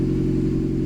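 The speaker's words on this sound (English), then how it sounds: "Start the car up, let it run for like 10 seconds or so, then shut that boy down." A Toyota MR2's engine idles steadily with a low, even hum and faint clatter, close by and with no talking.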